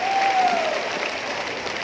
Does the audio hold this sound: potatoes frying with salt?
no